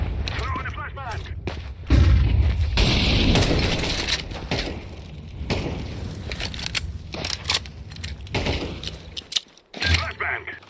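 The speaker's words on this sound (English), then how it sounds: "Throwing a flashbang." A flashbang grenade goes off in a Counter-Strike 2 match, a sharp loud bang followed by a ringing wash amid scattered gunfire, with a player talking over the action.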